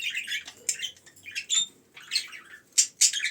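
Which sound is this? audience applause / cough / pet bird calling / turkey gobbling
pet bird calling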